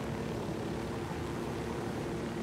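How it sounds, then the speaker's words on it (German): Steady, loud helicopter-like rotor and engine drone from a spinning aircraft in the Ghost Recon Wildlands video game, a continuous mechanical roar with no talk over it. "Bei mir fängt der ganze Heli zum Trudeln an."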